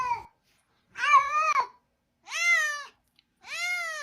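A cat yowls in three long, drawn-out calls separated by brief silences, each loud and close with a wavering, crying pitch, and no other sounds or voices around it.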